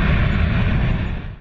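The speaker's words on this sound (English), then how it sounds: "Fighter." A loud, steady fighter jet engine roar fills the short moment, broadband and constant, easing off slightly at the very end.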